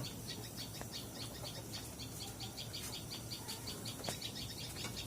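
Tailorbird chicks in a nest give rapid, repeated high chirps in steady bursts, close by and persistent, over a faint outdoor background hiss.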